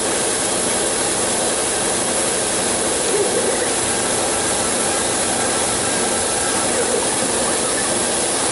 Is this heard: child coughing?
no